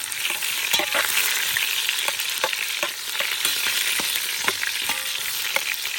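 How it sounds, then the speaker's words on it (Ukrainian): Two onions sizzle in fat inside a cauldron over a campfire, a steady close crackling hiss with occasional sharper pops and stirring clicks throughout. "даємо дві цибулини і обсмажуємо до золотої"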